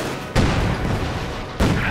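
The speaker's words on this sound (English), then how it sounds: "we really got those two heavy mortars just bombarding the cemetery" Heavy mortars pound a cemetery in Company of Heroes 2, two booming impacts landing about a second apart over a dense rumbling battlefield din.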